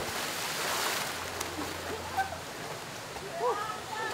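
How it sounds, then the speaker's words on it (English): Fresh, cool water bubbles up from a spring at the heart of a large water park in Belén, Costa Rica, making a steady, broad rushing wash that holds evenly throughout. "350 liters of fresh, cool water bubble up out of the spring every second"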